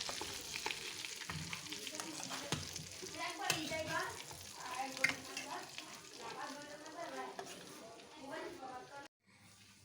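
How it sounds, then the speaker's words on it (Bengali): Meat fries in a pan, its steady low sizzle broken by scraping and stirring as the pieces are turned over, with a voice speaking over the cooking throughout. "এখন উল্টে পাল্টে ভেজে নিতে হবে।"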